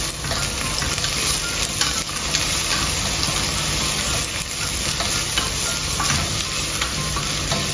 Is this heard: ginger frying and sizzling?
yes